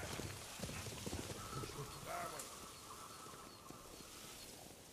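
Horses' hooves clopping in the samurai game Ghost of Tsushima, a fairly faint, irregular patter of hoofbeats under a noisy outdoor ambience, with a brief whinny-like tone partway through.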